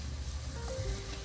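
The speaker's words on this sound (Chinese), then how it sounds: "用魚油煎烏魚" Pieces of wild grey mullet, bone-in tail, belly and back meat, sizzling over high heat in rendered fish oil, a steady soft hiss with low rumble throughout, no voices.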